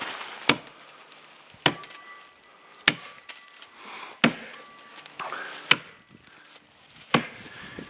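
A weighted axe strikes a tree trunk in six heavy, evenly spaced chops during strongman conditioning. Each blow is a sharp, close, woody crack followed by a short splintering decay.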